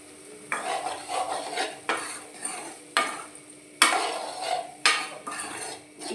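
Cooked rice being stirred into a pan for fried rice, a spoon scraping and clanking against the metal in repeated strokes roughly once a second, close and fairly loud with no talking.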